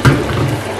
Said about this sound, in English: I'm gonna pour a little bit of water and let it simmer a little bit in the oil.